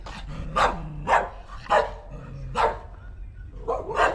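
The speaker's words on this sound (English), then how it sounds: "There's some dogs right there." Several dogs barking on a street near the shipyards of Lai Chi Vun in Macau, a series of sharp, fairly close barks over steady low street rumble.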